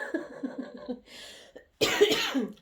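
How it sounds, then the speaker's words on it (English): A few close coughs and throat-clearing sounds, ending in a louder burst of coughing. "It makes you cough."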